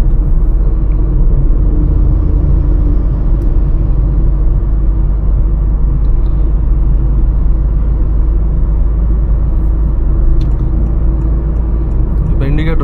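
Honda Elevate SUV cruising in sixth gear at about 40 km/h, with a steady low engine drone and road rumble filling the cabin at a constant level throughout.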